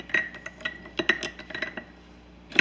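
Distilled white vinegar solution stirred in a glass jar with a utensil, giving a run of light clinks and taps at an irregular rhythm, close and fairly quiet, ending in a brighter rattle.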